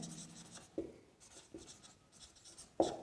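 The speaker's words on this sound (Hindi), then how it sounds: "तो यहाँ पे लिख सकते हैं" Marker or chalk writing on a board during a nursing lecture on suctioning, with soft scratchy strokes broken by several sharp taps as the tip meets the surface, close and quiet with no talking.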